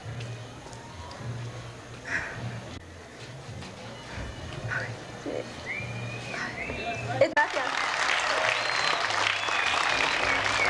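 Applause swells from a crowd at a pageant, starting amid talking and growing into loud, sustained clapping in the second half.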